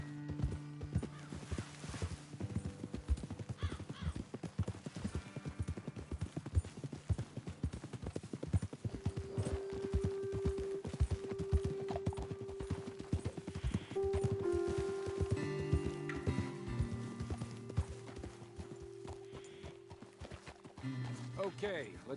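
Horses clip-clop and trot on a dirt trail in Red Dead Redemption 2, with steady hooves at a moderate distance and an occasional snort or whinny, under ongoing conversation and low game music.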